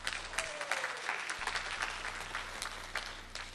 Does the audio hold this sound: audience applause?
yes